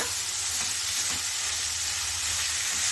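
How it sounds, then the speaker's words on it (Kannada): Chopped tomato and onion sizzle steadily in a hot pan for chicken gravy, a continuous close frying hiss with no talking. "ಟೊಮೆಟೊ ಚೆನ್ನಾಗಿ ಮೆತ್ತಗಾಗೋವರೆಗೂ ಹುರ್ಕೋಬೇಕಾಗುತ್ತೆ"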